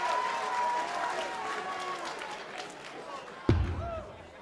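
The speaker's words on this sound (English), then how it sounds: "Cheering both players." Crowd applauding and cheering for both players at the 2009 Darts World Championship final between Ted Hankey and Tony O'Shea, a steady roar of clapping that holds throughout, with a sharp thud near the end and commentary over it.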